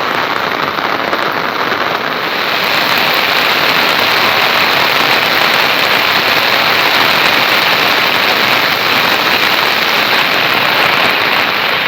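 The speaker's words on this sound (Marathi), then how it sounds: "पाऊस पडतोय मस्तपैकी" Steady heavy rain pours down nonstop, a dense, even hiss of drops close by with no other sounds.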